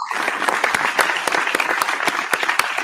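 Dense, lively applause from a small group on a beer-sharing talk show, steady crackling claps sustained throughout at close range.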